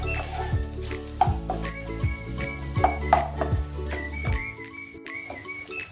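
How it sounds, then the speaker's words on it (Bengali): Chopped onions frying in ghee in a pan, with a soft continuous sizzle broken by repeated scraping and stirring knocks of a spatula against the pot, close and fairly loud. "যে পেঁয়াজগুলো কুচি করে রেখেছিলাম এই পেঁয়াজগুলো আমি এই ঘিয়ের মধ্যে দিয়ে দেব। দিয়ে এটাকে ভেজে নিতে হবে"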